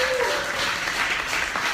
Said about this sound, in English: Round of applause for James.